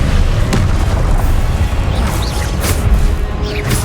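Confringo blasting spell explosions in the Hogwarts Legacy video game: a loud, continuous rumbling boom with crackling bursts and several sharp blasts layered over the top, with no talking.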